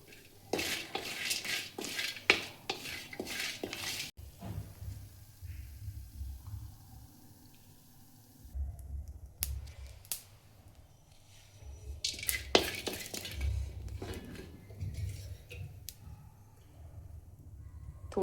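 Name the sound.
roasted spices taken out of pan for black masala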